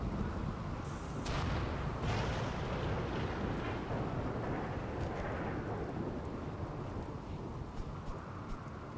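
Thunder from a lightning strike in the RimWorld video game: a loud, sustained rolling rumble with a rain-like hiss throughout, a brighter crack near the start, and no talking.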